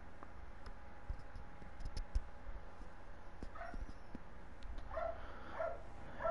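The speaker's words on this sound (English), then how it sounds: "Can you hear the dog?" A dog barks and whimpers faintly somewhere in the background, a few short yips breaking through a steady low hum.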